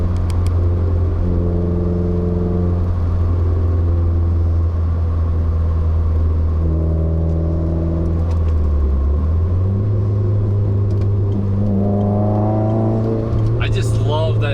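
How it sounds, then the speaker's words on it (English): The turbo spooling up in a 2015 Subaru WRX on a spirited drive: a loud, continuous engine drone whose pitch holds, steps and rises across repeated pulls, with whirring harmonics climbing near the end. "I just love that invigorating sound of the turbo spooling up."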